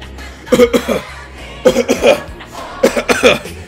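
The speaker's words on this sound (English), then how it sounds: "coughing fit. Sorry." A coughing fit in three bursts, each a rapid cluster of harsh, close coughs separated by short gaps.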